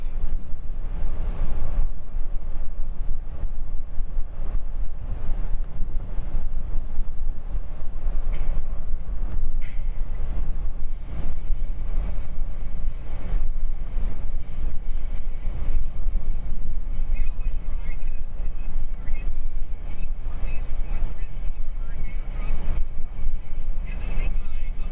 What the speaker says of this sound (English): We still have some gusty winds here.